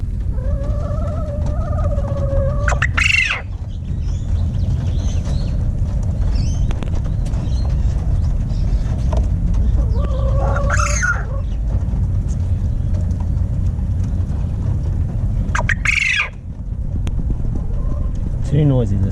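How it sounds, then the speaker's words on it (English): Quail roosters crow in three short, rising bursts spread across a steady background rumble, sounding fairly close and carrying over the noise. "The quail rooster crow is not that noisy compared to a chicken rooster"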